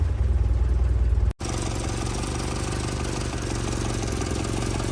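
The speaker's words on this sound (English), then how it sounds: "Starts nicely, settles down to a nice idle." A 1963 Morris Mini Minor 850 with its late-50s engine idles steadily after a brief cut, a low even rumble close by that holds smoothly throughout.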